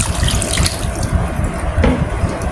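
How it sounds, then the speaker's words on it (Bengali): Water pours into a cooking pot of seasoned taro (kochur mukhi) for a curry, a close, splashy gurgling stream with uneven bursts, loud and alone. "এখন আমি পানি দিয়ে দেব।"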